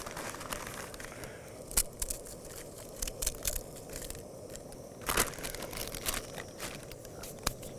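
Doritos tortilla chips are crunched by hand in a bag at a gas station, giving a run of crisp crackling and crinkling bursts with sharper loud snaps scattered through, close up and with no talking.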